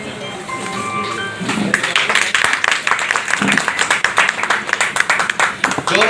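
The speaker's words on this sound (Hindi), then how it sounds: "जोरदार तालियां माननीय विधायक जी के लिए" Loud applause for an MLA at a state-level Maharaja Daksh Prajapati Jayanti function in Rewari, dense rapid clapping from an audience that swells after a brief lead-in with a tonal backing sound underneath.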